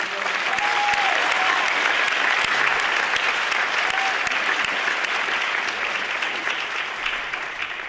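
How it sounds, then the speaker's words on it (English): A large audience at a college student screening event claps in a long, steady round of applause that stays loud and even for the full eight seconds, with a few faint voices underneath. "can we have a big round of applause for all of those that"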